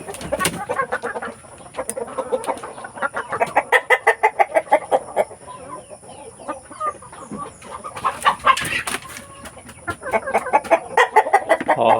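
Several free-range heritage chickens cluck and chatter nearby in quick rhythmic bursts, with a steady high whine in the background and no speech.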